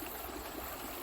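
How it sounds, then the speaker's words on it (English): Rough stream water in a salmon creek rushes in a steady, dense, continuous hiss, moderately near and alone, with no talking. "This is where the water coming down, and then it's getting a little bit rough."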